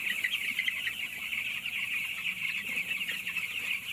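A crowded poultry shed of broiler chicks gives off a continuous high chorus of peeping and clucking, many birds at once, steady and fairly faint, with no voices.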